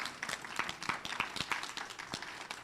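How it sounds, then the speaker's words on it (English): An audience at a town hall meeting gives a round of applause. The clapping is faint, with irregular claps spread across the room and no clear voices over it. "So let's give him a round of applause."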